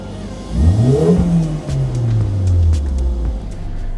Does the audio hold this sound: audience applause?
no